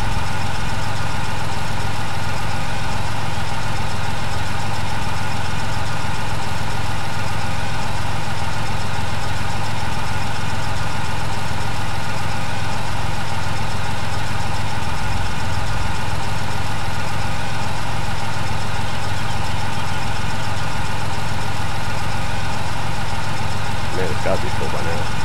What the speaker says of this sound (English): When you turn the engine off, it stops refueling.